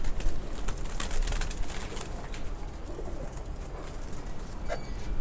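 A small female pigeon coos softly among light rustling and handling noises close by, with no voices.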